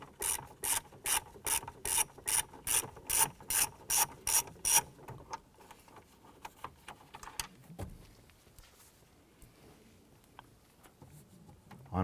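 A ratcheting screwdriver clicks in a quick, regular run of about a dozen bursts while backing out dash bezel screws on a 1993–1997 Ford Ranger, then faint handling noises follow. The sound is close and fairly quiet, with no talking.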